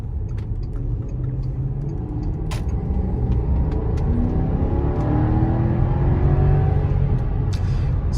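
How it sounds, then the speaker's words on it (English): A 2006 Porsche Cayenne Turbo S on a test drive gives a steady engine and road rumble from inside the cabin, with the engine note rising gradually. Small clicks and knocks are audible, and no one speaks. "Okay, we'll go out for a test drive now on the Cayenne."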